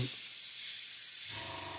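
Airbrush spray painting a 1/24 scale Airfix Spitfire Mk.IXc model kit, a steady close hiss of the spray that thins slightly and then swells again near the end.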